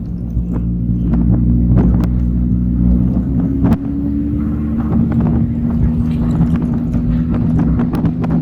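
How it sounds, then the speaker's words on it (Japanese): A Daihatsu Copen in sport mode drives along a road, heard as a steady low engine drone and road rumble from inside the car, with faint scattered clicks and a brief thump. "スポーツモードを今入れたんですけど、走りが変わりますね。"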